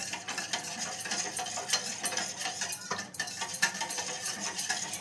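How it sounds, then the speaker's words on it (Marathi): Yeast being stirred into a sweet doughnut mixture in a bowl, a continuous close scraping and clinking of a spoon with brief sharper knocks, no voices. "पहिला ईस्ट टाकून हे जरा हलवून घ्यायचं."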